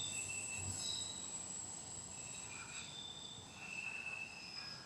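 Train wheels squeal in high, drawn-out metallic tones as a train rolls over the elevated tracks at the Chinatown station in Los Angeles, heard from below with insect-like chirring and a low rumble.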